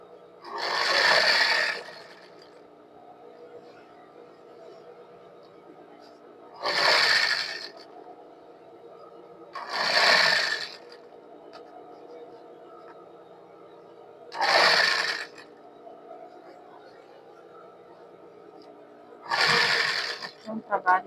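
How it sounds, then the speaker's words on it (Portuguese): Sewing machine stitching a seam on a coat during a zipper replacement, with five short whirring bursts spaced several seconds apart and a quiet hum between them. "bater a costura em cima da marca da costura original"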